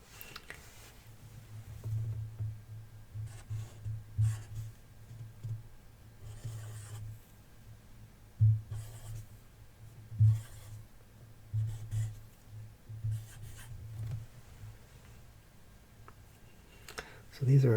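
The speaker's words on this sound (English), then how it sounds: "So I'm going to write them down here." Pen writing numbers by hand on paper, close soft scratching strokes and taps in short irregular bursts, with quiet speech at times.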